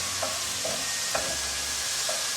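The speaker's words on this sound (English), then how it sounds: "Gotta make sure you keep stirring the snap peas, otherwise we're gonna stick to the pan." Sugar snap peas stirred in a frying pan, a steady sizzle under repeated scraping strokes of a utensil across the pan, close and clear.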